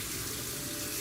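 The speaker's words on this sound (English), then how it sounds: "Turn the water on so we can rinse." Water runs from a tap to rinse a bucket, a constant, close rushing stream with no other sound.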